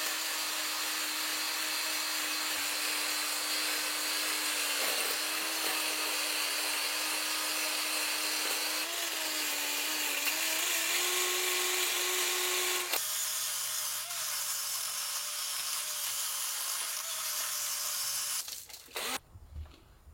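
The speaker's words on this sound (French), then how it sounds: "vais essayer de mettre un coup de brosse métallique là-dedans pour voir ce que ça donne." Power wire brush scrubbing the cylinder bores of a disassembled VM engine during a liner replacement, a steady rough grinding whir running continuously for most of the clip, changing pitch partway through, then stopping abruptly at the end.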